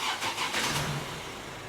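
A 2013 Vauxhall Astra J 1.7 CDTi diesel engine cranks and fires, with a short burst of starter churning that settles into a steady running rumble, close and moderately loud.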